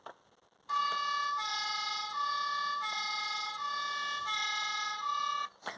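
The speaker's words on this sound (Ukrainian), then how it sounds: "це пожежна сирена, її вмикати при звичайних викликах." A Bruder toy fire engine siren sounds a steady electronic tone for about five seconds, loud and close, alternating between two pitches with no talking.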